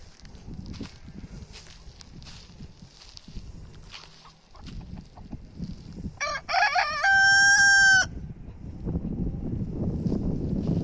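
A rooster crows loudly once near the middle, with soft clucking and shuffling of chickens around it, on a farm.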